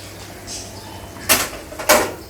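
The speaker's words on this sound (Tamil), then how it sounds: "இப்போ நம்ம மீன் போட்டுடலாம்." Two brief splashy sizzles as fish goes into a simmering drumstick fish curry in a home kitchen, each a short burst over a quiet background.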